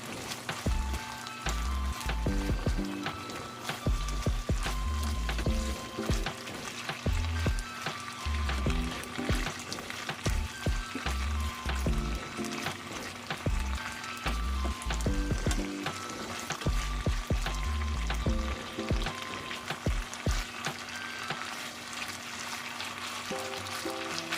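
Homemade pork tapa fries in oil in a pan, a steady close sizzle and crackle with occasional stirring and scraping knocks throughout.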